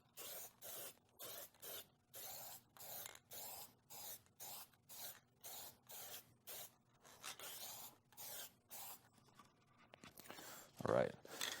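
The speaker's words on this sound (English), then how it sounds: "So I'm going to go ahead and apply the lacquer, again, acting as our sealer." Spray can applying a lacquer sealer coat over a painted distressed finish, a series of short hissing bursts in a steady on-off rhythm, close and fairly quiet, with a cough near the end.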